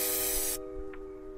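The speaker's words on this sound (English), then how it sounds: "I then used a fixative spray to seal the sketch." A short, loud hiss of an aerosol fixative spray sealing a sketch, lasting about half a second before cutting off, over a steady low electrical hum.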